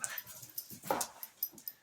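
A boxer dog whimpers in short, faint yips and whines scattered across a couple of seconds, with a slightly louder cry near the middle, close by in a quiet home.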